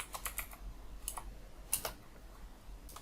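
Fingers typing React code on a computer keyboard, quick clustered key clicks in irregular bursts with brief pauses, faint and close, with no voices.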